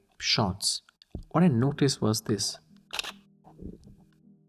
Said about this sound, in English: it's a very different sort of shutter sound, and you can hear it.